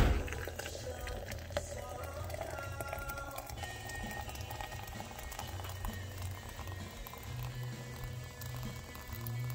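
Hot water, heated to around 200 degrees, is poured into a French press to make coffee, a faint steady splashing pour that runs continuously for several seconds.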